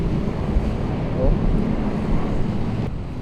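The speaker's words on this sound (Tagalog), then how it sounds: "Malakas ang hangin." Strong outdoor wind buffets the microphone in a steady broadband rumble throughout, loud and continuous, during a test of a Nanlite parabolic softbox.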